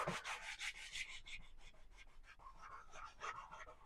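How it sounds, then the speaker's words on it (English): A loaded paintbrush scrubs black and yellow paint crisscross onto canvas in quick, rhythmic rubbing strokes, close and soft, alone without talk. "Just scrubbing on that paint."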